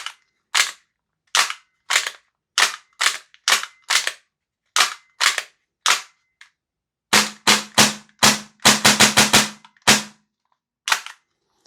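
A Tokyo Marui USP 9 gas blowback airsoft pistol fires sharp, close, loud cracks, first as spaced single shots and then as a quicker cluster of rapid shots, with silence between them.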